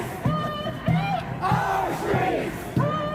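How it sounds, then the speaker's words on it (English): Large crowd of protesters at a BLM protest at WKU in Bowling Green, Kentucky, chanting in loud rhythmic rising calls repeated several times, nearby and energetic. "there is a rather large crowd that is gathered over here behind me"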